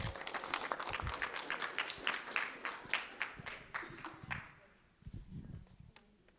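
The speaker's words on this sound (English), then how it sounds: "Let's give her a round of applause." A small group claps steadily for several seconds, then the applause tapers off into scattered final claps.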